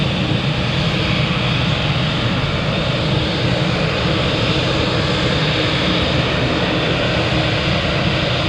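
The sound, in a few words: aircraft at Manchester Airport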